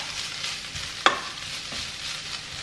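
Sausage frying in a pan on a home stove, a steady broadband sizzle with a sharp clink or stir near the middle, continuous and close.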